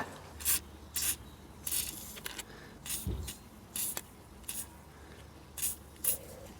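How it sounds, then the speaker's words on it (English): Short hissing spray bursts from a spray can on a Honda Express moped left sitting for 20 years repeat irregularly, about a dozen quick blasts with brief pauses between them, close and fairly quiet. "So give it a little spray of something."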